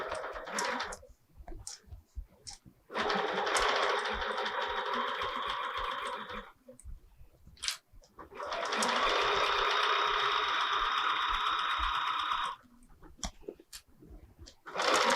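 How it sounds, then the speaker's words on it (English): Sewing machine stitching a pillow, two long runs of rapid mechanical chatter a few seconds each, separated by short pauses, close and clear. "we're almost at the end of our stitching here"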